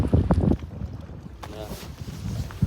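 Strong wind buffets the microphone aboard a boat on open sea, with people talking at the start and end and a brief engine-like hum in the middle.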